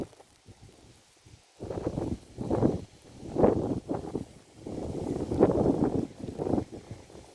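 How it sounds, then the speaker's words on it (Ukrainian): Gusty wind buffets the microphone in low, rumbling bursts that rise and fall over several seconds, close and uneven. "Вибачте за вітер."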